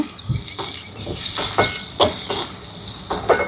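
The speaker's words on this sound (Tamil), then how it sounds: "இதெல்லாம் வதங்கட்டும் பாருங்க வெங்காயம் வதங்குது" Onions sautéing in a pan give a close, steady sizzle broken by regular stirring strokes about every half second, no voices.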